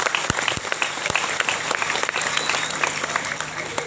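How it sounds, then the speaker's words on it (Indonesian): Sustained audience applause at an Isra Mi'raj commemoration in an Islamic boarding school, a dense steady wash of many hands clapping with a few sharper near claps, continuing evenly throughout. "Tepuk tangan buat ayah ibu kita semua."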